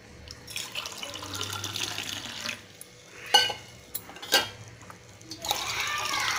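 Ixora flower juice being mixed with water, lemon juice and honey in a kitchen: light clinks and splashing of stirring, interrupted by a couple of sharper knocks, close up with brief low talk.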